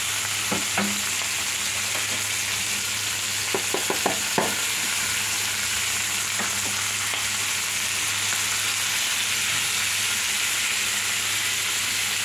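Beef pieces for pinapaitan sauté in a hot pan with a steady, close sizzle throughout, broken by a few sharp scrapes and clicks of stirring near the start.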